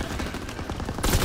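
STG assault rifle fire in Call of Duty WW2, a rapid burst of close, punchy shots, swelling louder at the end.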